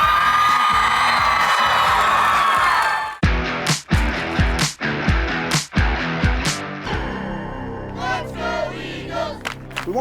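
A large crowd roars and screams loudly at a high school pep rally, then breaks into rhythmic stomping or clapping bursts with whoops and shouts echoing in a big hall.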